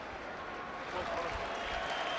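Home rugby crowd at a Gloucester versus Leicester Premiership match breaks into applause, a faint broad wash of clapping and crowd noise that swells slightly as it continues.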